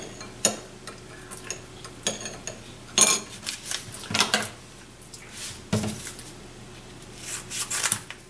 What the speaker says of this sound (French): On mélange comme il faut pour être sûr que le miel soit bien dissous